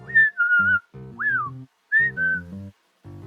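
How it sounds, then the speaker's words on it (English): A person whistles a few short rising and falling phrases, clear and close, with pauses between them and a low tonal backing underneath. "I whistle at her."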